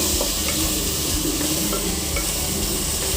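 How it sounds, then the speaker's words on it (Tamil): Onions sauté in a hot pan for a baby jackfruit biryani, a dense continuous sizzle close up with soft scraping as they are stirred. "வெங்காயம் வந்து நல்லா வதக்கிக்கணும்."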